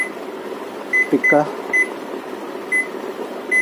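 A 600-watt microwave oven gives short, bright electronic beeps as its menu buttons are pressed, about six separate tones spaced irregularly over a few seconds, with a faint voice in between.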